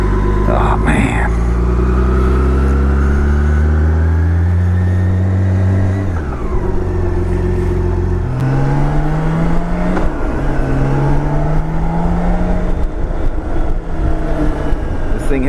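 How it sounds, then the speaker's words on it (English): A BMW K1600 Grand America motorcycle engine revs and pulls through the gears on a ride, its pitch climbing in long sweeps and dropping at each shift, loud and close over steady wind rush. "Let's take the K1600 Grand America for a ride."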